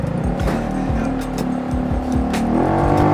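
A Yamaha XMAX 300 scooter fitted with a full exhaust accelerates on a test ride, its loud, close engine note climbing steadily in pitch with the throttle.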